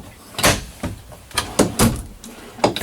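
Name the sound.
full extension drawers opening in RV cabinetry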